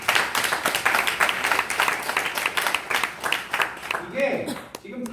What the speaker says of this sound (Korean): 여러분들 위해서도 격려의 박수 한번 치겠습니다